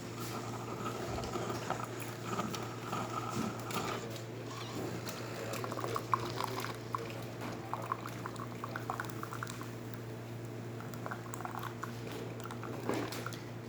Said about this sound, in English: we're just going to do hot water right there.